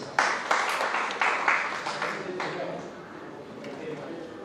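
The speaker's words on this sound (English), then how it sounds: "Please give them a big round of applause." Audience applause breaks out as sharp claps early on, then thins and fades into a lighter, scattered patter over a few seconds.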